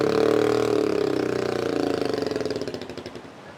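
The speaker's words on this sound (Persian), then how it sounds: "اینمی صدای موتورسیکلم که به گوش شما رسید" Motorcycle engine idling and running nearby outdoors in Nuristan, Afghanistan, a steady loud rumble with a pulsing, chugging rhythm that fades slightly toward the end.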